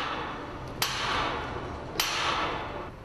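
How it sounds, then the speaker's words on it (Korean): Two sharp metallic hammer blows about a second apart ring out while a tower crane is being dismantled, each followed by a short ringing decay over a low background rumble. "일단 눈앞의 망치질에 최선을 다할 수밖에."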